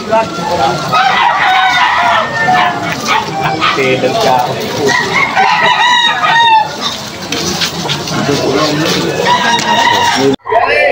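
A young rooster (stag), about ten months old, crows loudly and repeatedly at close range while several people talk over it.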